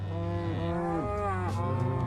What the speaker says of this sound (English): That's too many cows. They're far too noisy.